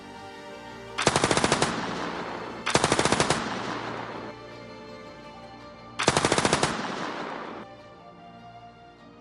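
Three loud bursts of rapid automatic machine gun fire from an animated Batman film set in a dark city, each lasting a second or more with a decaying echo trailing off, separated by brief pauses, with no voices.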